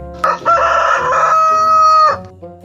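A rooster crows loudly and close, one long drawn-out call with a rising start and a held, wavering end.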